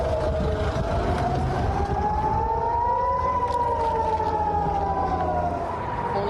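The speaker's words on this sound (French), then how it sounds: "On entend les sirènes." Air raid sirens wail near Tel Aviv during a rocket attack, a loud rising and falling tone sweeping slowly over steady background rumble, with no talk.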